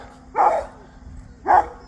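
Several puppies on a farm bark in two short, loud bursts close by, separated by a brief lull with low background noise.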